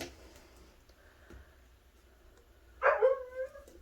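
A dog barks indoors near a doorway in cold weather, one short sharp bark burst with a quick follow-up yip near the end, loud and close after a few seconds of quiet room tone.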